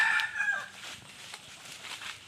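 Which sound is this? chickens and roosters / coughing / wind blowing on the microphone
chickens and roosters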